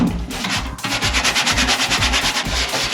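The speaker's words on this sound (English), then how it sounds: "With the wire wool, you can get to a point where you start rubbing paint away." Wire wool rubbing grease and grime off an old two gallon metal petrol can with original green paint, a close, loud, scratchy scrubbing in quick rhythmic back-and-forth strokes, with no voices.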